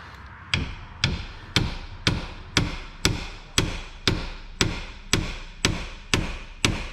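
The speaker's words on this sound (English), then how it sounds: "I am probably going to have to gently tap this with a hammer a couple times" A hammer taps a Jeep Cherokee part during spark plug replacement, thirteen evenly spaced, sharp metallic knocks about half a second apart, close and clear with no talking.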